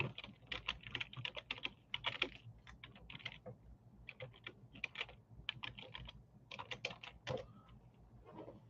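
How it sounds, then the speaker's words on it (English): Rapid, uneven typing on a computer keyboard with bursts of clicks and short pauses, close by and fairly quiet, with no voices. "Excuse my bad typing skill."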